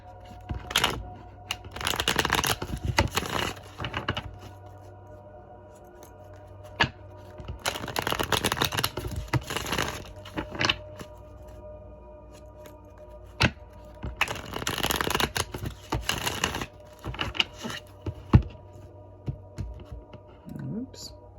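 Tarot cards being shuffled in bursts of rapid riffling and flicking, with quieter gaps between the runs and a person speaking at times.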